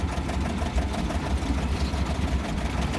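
The engine of the Corris No. 5 locomotive, a loco with a clutch on the Corris Railway in Train Simulator 2018, runs with a steady low chugging idle throughout, fairly close and even in level.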